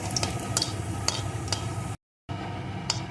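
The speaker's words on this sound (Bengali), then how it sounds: "তেলটা গরম হয়ে গেছে এখন এর ভিতরে দিয়ে দেব একটা শুকনো লঙ্কা একটু গোটা জিরে ফোড়নটা সুন্দর করে ভেজে নেব" Dried red chilli and whole cumin crackle and sizzle in hot mustard oil, with sharp popping spits over a steady fry, broken by a brief silent gap before the sizzling resumes.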